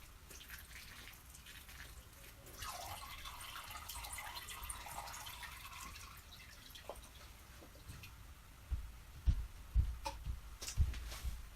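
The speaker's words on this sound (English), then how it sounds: "I'm just going to go ahead and water this real good." Water poured over freshly transplanted seedlings in a tray, a steady soft splashing and trickle that grows into heavier, uneven drips and splats near the end, with no talking.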